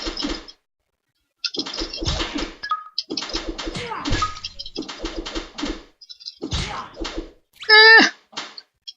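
Birds attack in the video game Helmet Heroes, with dove-like coos, thunks and short chirping game effects in bursts, including one clear trilling call near the end, separated by moments of silence.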